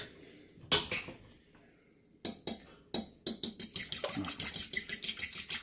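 Ingredients for cornbread and cowboy beans being mixed in a bowl: sparse clinks at first, then rapid rhythmic scraping and tapping of a utensil against the bowl, close and fairly loud.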